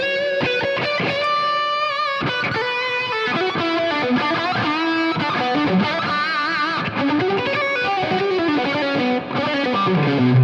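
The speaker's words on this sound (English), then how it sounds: "Next is the same lead but with reverb." Electric guitar lead drenched in reverb, played as a continuous melodic line with sustained, slightly wavering notes and a distorted, effected tone, loud and close with no talking.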